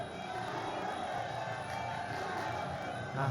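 A crowd at a Thai boxing (Muay Thai) match cheers in a steady, dense roar that fills the whole stretch and swells slightly at the end, with a commentator talking over it.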